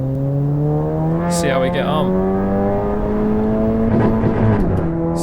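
Porsche 911 GT3 on the Nordschleife tourist layout in Assetto Corsa EVO, its engine revving up through rising gear pulls with a quick shift, loud and steady while someone talks over it.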